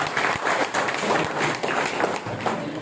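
Applause from attendees at a village meeting in Indonesia, a steady dense clapping that fills the whole stretch at moderate distance with no break.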